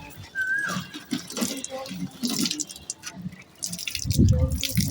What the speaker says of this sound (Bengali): এটাকে জল দিচ্ছি